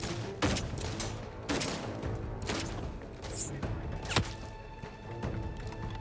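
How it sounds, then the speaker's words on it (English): Gunfire aimed at the player in the video game The Outer Worlds 2: a burst of repeated shots and thuds at irregular intervals, loud and near, over a steady game background. "Who's shooting me?"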